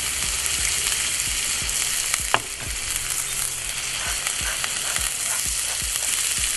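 Three smash burger patties sizzle steadily on a hot griddle, a loud, dense frying hiss that runs throughout with scattered pops and one brief clink of a utensil, no talking.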